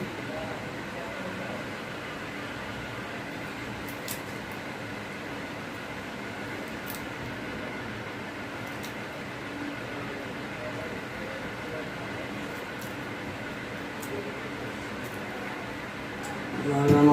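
A skin treatment machine runs during a black skin treatment, giving off a steady, even mechanical hum close by for the whole stretch, with a voice at times and a louder swell at the very end.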